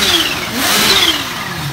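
Kawasaki Ninja H2 supercharged motorcycle revving, a loud close engine roar with rising and falling pitch sweeps and a thin high whine from the supercharger riding above it.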